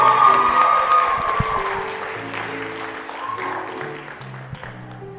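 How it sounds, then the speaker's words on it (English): A comedy club audience claps and cheers for a comedian taking the stage, a dense wash of applause that starts loud and gradually tapers while music plays faintly underneath. "Big round of applause for Stephen Ty"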